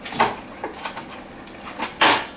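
Knife chopping cooked onion on a board in a home kitchen, a few irregular soft thuds and knocks spaced apart, close, with one louder clack near the end and no talk.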